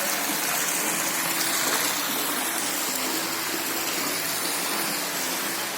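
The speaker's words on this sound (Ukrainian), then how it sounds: "Ось так набирається водичка." Water pours steadily into a wooden hot tub with a herb bag floating in it at a mountain guesthouse in Slavske, a loud, continuous rushing gush with no talking.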